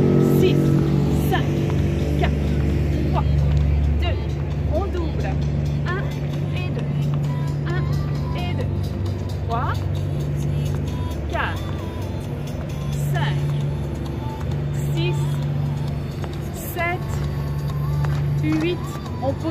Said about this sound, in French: maintenant c'est une péniche qui passe